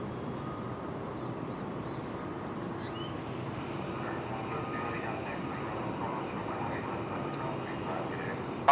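An American Eagle Embraer 175 regional jet arrives at Dallas Fort Worth airport, its engines a steady, broad roar throughout. Faint birdsong chirps above it, and a voice talks over the noise.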